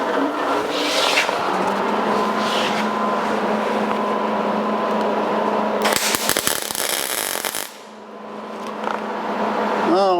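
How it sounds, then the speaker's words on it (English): MIG welder laying a test bead on a cut-out section of a 1982 Jeep CJ7, a close, steady crackling buzz that runs for several seconds, then breaks off into a short pause before resuming. "the welder is still set for the welding I did on the side of the car, which ought to be a pretty good setting for this"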